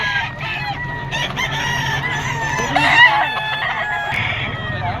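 At a busy Friday pet market in Bocaue, Bulacan, a bull stag rooster crows loudly and close, with clucks and calls from other fowl and faint crowd noise around it.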